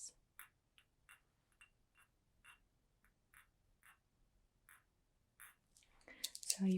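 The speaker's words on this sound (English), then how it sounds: "So you can hear the glass clicky sounds" Glass items click together softly in an ASMR sleep clinic roleplay: a dozen sparse, light clicks spaced close to the microphone in a quiet room, followed by a louder rustling burst at the end.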